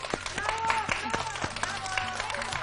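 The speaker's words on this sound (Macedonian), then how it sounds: "Да ги поздравиме со аплауз" Scattered applause from a studio audience greeting kindergarten children on a television show, with clapping running throughout under chatter, background voices and some tonal sounds.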